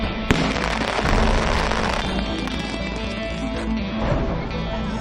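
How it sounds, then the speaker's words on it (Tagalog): Confiscated illegal firecrackers set off by police ahead of New Year in the Philippines, a sharp crack followed by a dense rattling burst of rapid pops and a lingering crackle and bangs. "Ilan sa mga nakumpiskang iligal na paputok, sinampol ng pulisya kung gaano kalakas."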